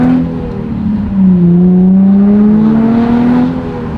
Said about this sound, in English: Is that stock exhaust, or does this thing have an exhaust on it?